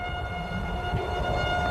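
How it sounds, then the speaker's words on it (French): A town alarm siren wails as a steady sustained tone carried on the wind during a tornado, loud and continuous with no one talking. "la sirène d'alarme qui hurlait en ville"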